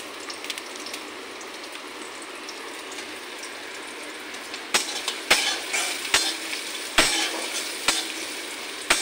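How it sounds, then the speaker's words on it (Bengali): Onions frying in a pan produce a steady soft sizzle, and after a few seconds a spatula starts stirring and scraping against the pan with sharp, repeated strokes. "পেঁয়াজটা একটু ভালো করে"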